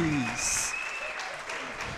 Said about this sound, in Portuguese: Uma salva de palmas para o primeiro campeão, Sebastião Torres.